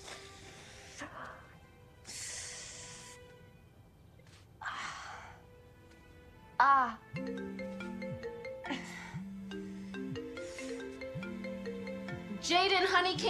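A mobile phone rings in a home with a repeating electronic melody of steady tonal pulses, moderately loud. Gasps and other vocal sounds come in around it.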